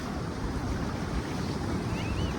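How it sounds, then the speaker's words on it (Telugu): Ocean waves roll in at Kothapatnam beach, a steady, full wash of surf with wind rumbling across the microphone, no voices heard. "బీచ్కి వచ్చి ఒంటరిగా కూర్చొని ఈ అలల శబ్దం అంటే ఎలా ఉంటుందో తెలుసా?"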